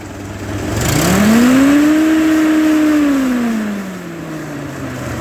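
A 1949 Ferguson TE20 tractor engine, prone to stuttering, revs hard as the throttle opens: a loud, steady drone climbs in pitch, holds high, then sinks back toward idle.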